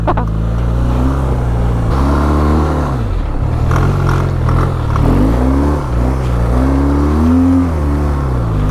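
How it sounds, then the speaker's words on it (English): A BMW R 12 G/S motorcycle engine gives a loud, close, gruff idle and rising revs that sound like a turbo diesel, its pitch sweeping up and down across several blips. "Sometimes this bike sounds like a turbo diesel."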